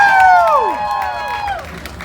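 A hypnosis-show audience cheers and applauds, with a few falling whistle-like calls sliding down over steady crowd noise. The cheering stays fairly loud and continuous throughout.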